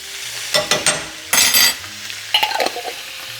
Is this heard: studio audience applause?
no